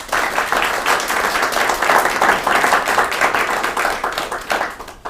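Loud, dense applause from a live audience at an evening public radio event with an NPR correspondent, steady clapping filling the room for about five seconds before tapering off.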